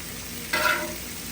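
Crumbled ground beef for a New York style chopped cheese fries in a hot pan and gets turned over. Quiet steady sizzle, then a brief louder scrape and hiss when the meat is flipped, heard close with no talk.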